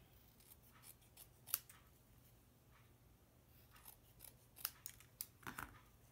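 Scissors trim a craft piece for a miniature church model, a few faint, sharp snips scattered over quiet room background.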